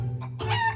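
A cartoon rooster crows in a short burst of rising and falling notes after a brief clucking lead-in, close and clear with no talk over it.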